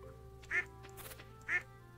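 A duck in Stardew Valley quacks twice, about a second apart, each call short and fairly clear over a quiet game background with no talk.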